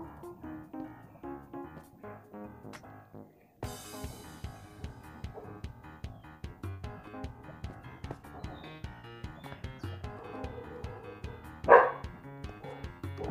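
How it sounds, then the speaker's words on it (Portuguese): Dogs barking in a parkour video game, rapid repeated barks and yips in a steady rhythm throughout, with a louder yelp near the end. "Uma mini pausada só pra dar uma olhada no que os cachorros tava acuando"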